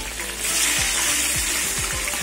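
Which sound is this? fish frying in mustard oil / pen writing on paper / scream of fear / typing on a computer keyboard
fish frying in mustard oil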